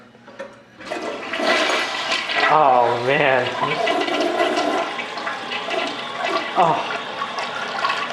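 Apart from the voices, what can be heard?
old 47 gallon per flush toilet flushing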